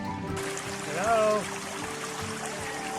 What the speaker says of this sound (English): Stream crossing.